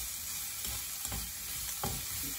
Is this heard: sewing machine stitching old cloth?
no